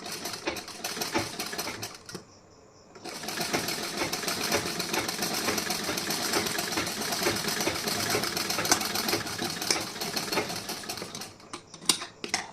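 A sewing machine runs steadily while stitching folded blouse fabric, a close, continuous mechanical whir with a brief pause after about two seconds before the motor picks back up.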